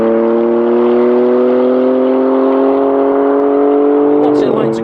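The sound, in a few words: BMW M4 CS engine revving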